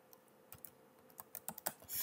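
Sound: typing a file name on a computer keyboard

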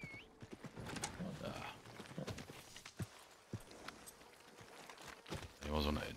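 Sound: horse hoofbeats while riding in video game Red Dead Redemption 2

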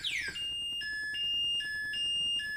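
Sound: e-bike anti-theft warning alarm going off briefly

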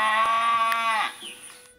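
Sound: cow mooing

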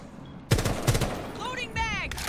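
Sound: gunfire in Rainbow Six Siege video game

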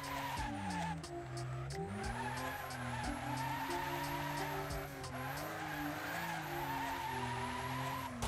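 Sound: R33 Skyline tires skidding sideways in video game Wreckfest

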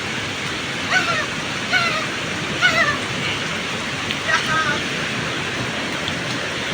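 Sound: filling a container with drinking water

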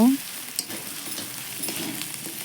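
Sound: stirring ginger, garlic and turmeric frying in a pan

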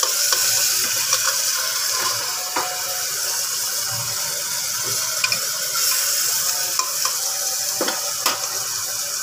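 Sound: frying minced meat with ginger garlic paste

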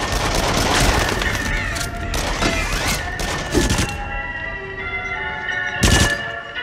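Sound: machine gun fire in the video game Rush of Blood VR

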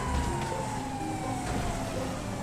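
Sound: police car siren in GTA 5 video game

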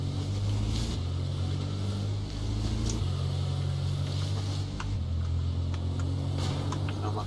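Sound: car driving in video game

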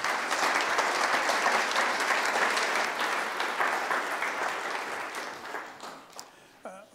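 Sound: audience applause welcoming speaker Marc Levy

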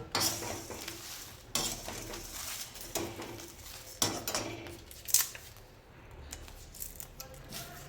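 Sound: breaking dried crisp bay leaves into small pieces

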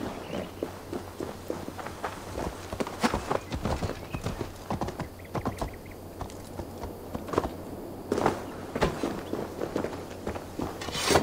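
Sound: horse hooves walking, from a video game

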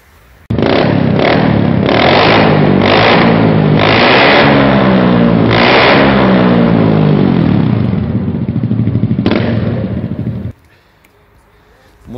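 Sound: motor scooter engine revving

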